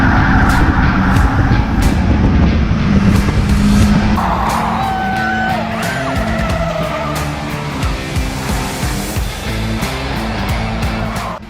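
Race cars competing in a Scottish championship race roar past loudly and continuously, with engine noise and tire squeal filling the scene and a passing car sweeping through.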